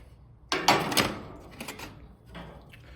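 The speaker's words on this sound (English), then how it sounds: "take the grill off. Take the heat baffler off." A metal heat baffle lifted off a gas grill, giving a clatter of metallic clanks and scrapes that starts sharply and trails into lighter rattles, close by with no talk.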